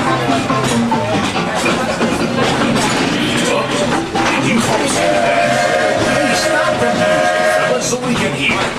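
Riding aboard the Walt Disney World Railroad train at Magic Kingdom, the carriage clatters steadily over the rails with a continuous rumbling roll, joined later by a brief tonal whistle-like sound, while an announcer speaks over it.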